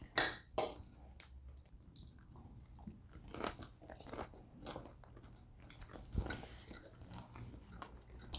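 Someone bites into roast turkey from a budget 1993-style home meal, giving a couple of sharp crunchy bites up close followed by quieter chewing and faint cutlery clinks.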